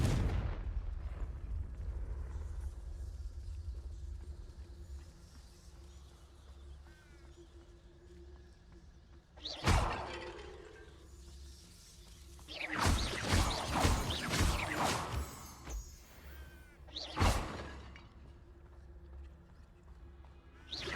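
Confringo blasting spell cast in Hogwarts Legacy: several loud bursts, a single blast then a dense cluster of cracking impacts and a final burst, over a low steady game ambience.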